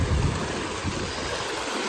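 Fresh, clean water of a stream flowing steadily nearby, a continuous rushing wash that holds even and unbroken throughout, with no voices over it.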